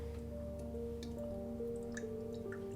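Vitreous enamel grains swished around in a container of water during washing, giving a quiet, steady watery swirl with small drips and light ticking sounds throughout, no talking.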